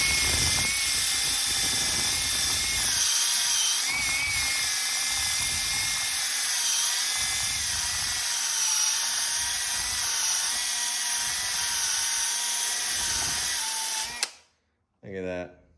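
A power drill spins a 2-inch Osborn crimped wire tube brush inside a 2-inch copper fitting, giving a loud, steady high whine with scratchy grinding that runs continuously for about fourteen seconds before cutting off, then a brief spin-down.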